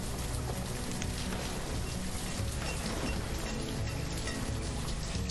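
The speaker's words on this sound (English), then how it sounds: "Oh, rain." Steady rain falls in the city-building game Banished, a soft, even hiss of drops continuing without break, fairly faint and alone.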